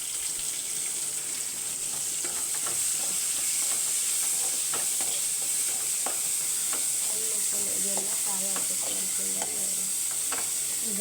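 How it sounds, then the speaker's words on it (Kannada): Garlic and onion fry in a pan with a continuous sizzle, punctuated by stirring scrapes and clinks close at hand; no one talks. "ಇದು ಫ್ರೈ ಆಗಬೇಕು ಬೆಳ್ಳುಳ್ಳಿ. ಫ್ರೈ ಆದಮೇಲೆ ಉಳ್ಳಾಗಡ್ಡೆ ಹಾಕ್ಬೇಕಾ?"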